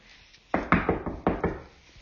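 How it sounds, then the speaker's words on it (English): Knocks on a wooden door: two quick clusters of firm raps about a second apart, close and fairly loud, with nothing else around them. "He knocked at the door."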